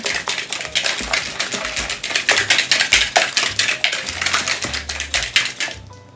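Rapid, rhythmic clinking of a whisk against a bowl while hand-whisking cake batter, steady and close, continuing for several seconds before stopping.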